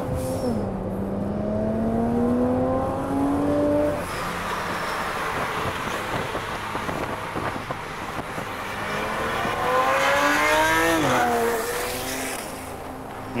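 A Porsche 911 Turbo S engine revs up close and loud, climbing in rising pulls with a brief drop between them, ending in one final hard sweep.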